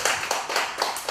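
A small group of attendees in a coaching class applauds with steady, crisp hand claps that repeat evenly for about a second, near and moderately loud.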